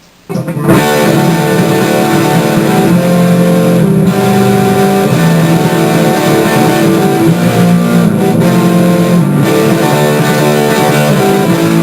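A distorted electric guitar plays a song's chorus slowly, moving through chord changes in a dense, continuous, loud wash that sustains throughout without pauses or talking.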